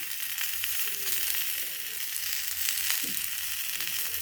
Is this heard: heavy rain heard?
no